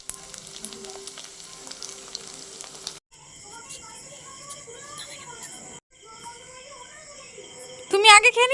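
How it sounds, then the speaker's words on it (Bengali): Rice and semolina rings deep-fry in hot white oil, a soft, steady sizzle with faint bubbling that cuts out briefly before a louder crackle of spattering near the end. "সাদা তেল গরম করে নিলাম, আবার এইগুলো আস্তে আস্তে একটা একটা করে ভেজে নেব।"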